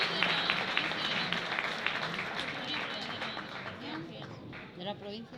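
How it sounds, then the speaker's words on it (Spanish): An audience applauds at a tribute ceremony in León, sustained crowd clapping that gradually thins out, with voices talking beneath it. "Un fuerte aplauso para ella."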